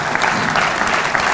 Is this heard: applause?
yes